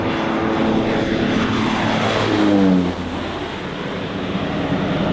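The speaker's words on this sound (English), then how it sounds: "Plane, shoot, we gotta film this." Propeller airplane droning overhead at a fishing lodge, a loud steady engine roar that swells and then eases slightly as it passes.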